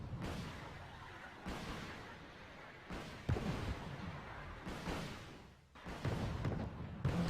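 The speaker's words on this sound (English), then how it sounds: "The exchange of fire continue, but none of my missiles actually managed to pierce through so far." Naval battle in the video game Wargame Red Dragon: repeated booming cannon and missile fire, several heavy blasts spaced a second or so apart over a continuous rumbling din, loud and dense with no talk.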